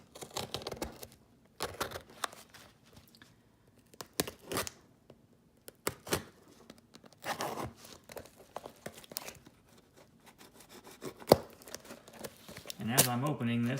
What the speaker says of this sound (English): let's go ahead and cut this one open.